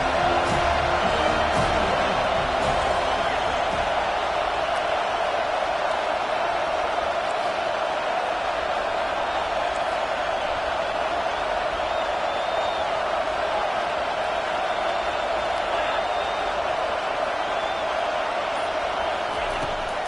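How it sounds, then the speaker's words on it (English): A stadium crowd at a football game roars steadily for the defense on third down, a dense, loud, unbroken wall of cheering that holds for the whole stretch. "Decibels rising as the crowd gets behind this defense on 3rd down"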